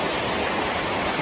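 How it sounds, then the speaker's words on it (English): Waterfalls on the Bolaven Plateau in Laos roar as a continuous broadband rush of falling water, loud and unbroken, with no voices. "Look at these waterfalls."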